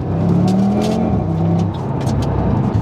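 Stage-one tuned Audi TT RS five-cylinder engine, making close to 500 horsepower, revving up and down in a few loud, close blips, its throaty drone rising and falling through a steady idle rumble.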